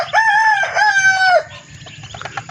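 A rooster crows loudly nearby, followed by softer scattered clucking from hens, with chicks feeding.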